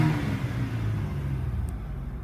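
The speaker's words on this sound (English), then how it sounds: "Let me rev it up for you." A 2002 Nissan Xterra SE engine revving, recorded nearby as a steady, loud mechanical drone that holds fairly even without voices over it.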